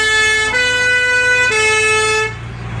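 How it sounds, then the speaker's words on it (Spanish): Volunteer fire truck siren in Parera, sounded on Volunteer Firefighter Day: a loud, close, sustained electronic wail with steady harmonic tones and brief pitch shifts, with no talking. "¿dónde se toca para la sirena?"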